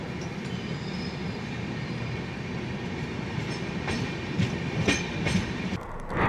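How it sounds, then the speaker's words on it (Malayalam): Shatabdi Express overtaking the Kamakhya Ranchi Weekly Express, heard as a steady low rumble of rolling wagons with rhythmic wheel clicks and occasional squeals building toward the end, continuous and fairly loud. "നമ്മുടെ train Kamakhya Ranchi weekly എക്സ്പ്രസ്സിനെ overtake ചെയ്ത് കടന്നു വന്ന കാഴ്ചയായി കാണുന്നത്."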